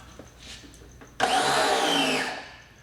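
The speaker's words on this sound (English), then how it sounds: "You fire it up, it builds pressure, and then it goes quiet." A Wholesun 3000 psi electric pressure washer with a 0-degree nozzle switches on abruptly and whines loudly as it builds pressure for about a second, then shuts off and falls quiet, alone without talk.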